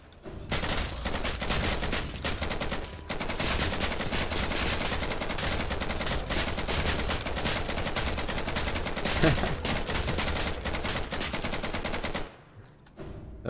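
Rapid gunfire from guns in the video game Hollow Knight, played during a fight against a fluke boss, rattles continuously in dense bursts for about twelve seconds, then cuts off abruptly.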